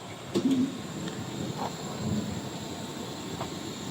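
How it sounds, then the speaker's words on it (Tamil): A train rolls in with a steady low rumble, faint wheel squeals and occasional clunks rising over the background noise. "இப்போ ஏர்போர்ட்டுக்கு விழிக்கிறார் ட்ரெயின் வந்துட்டுது பாருங்கள்"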